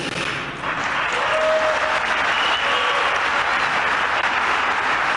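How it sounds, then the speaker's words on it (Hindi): Steady, dense applause from a large audience filling the hall after an announcement by Trump, loud and continuous throughout with no speech over it. "मोहम्मद बिन सलमान ने भी खड़े होकर ट्रंप के ऐलान पर तालियां बजाई थी"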